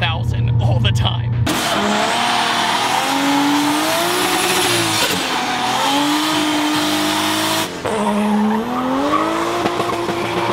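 A 1983 Toyota Celica with a big-turbo 1JZ engine revs hard, its tone rising and falling through several pulls, loud and close, after a brief stretch of other noise at the start.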